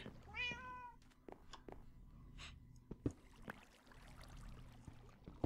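A Minecraft cat gives one clear rising-falling meow near the start, followed by scattered soft clicks, taps and quiet game ambience.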